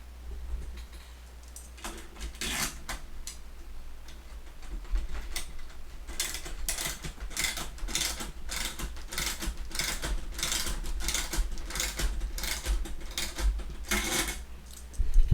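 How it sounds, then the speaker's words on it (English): A sim racing steering wheel clamp being ratcheted onto a desk, producing a steady run of sharp, close mechanical clicks in a regular rhythm that quickens midway, loud against a low background hum. "it's simply me ratcheting my steering wheel to my desk"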